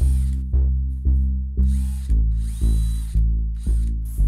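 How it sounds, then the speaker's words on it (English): A power drill bores new front holes for hardware in a wooden ball-and-claw chest, running in about eight short, loud, even bursts, each spinning up sharply and then winding down. "drilled new front holes for the hardware"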